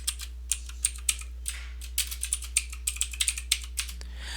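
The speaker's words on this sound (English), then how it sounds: "I'm going to type blueberries just like I have it spelled here." Typing on a computer keyboard while entering a word into an Excel spreadsheet: a quick run of close, crisp key clicks in uneven bursts, with no talking over them.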